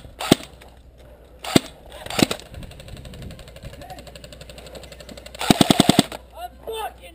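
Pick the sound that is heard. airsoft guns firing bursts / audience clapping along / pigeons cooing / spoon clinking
airsoft guns firing bursts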